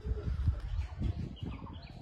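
Pigeons, White Teddy and KTM Pakistani cross-breed birds, give soft, low, repeated coos close by in a quiet setting.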